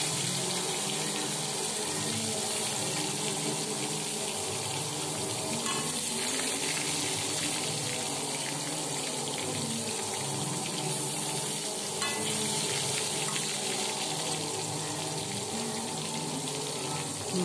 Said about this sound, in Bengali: ভালোভাবে তেলকে গরম করে নিয়েছি। আর মাছগুলো ভেজে নেব।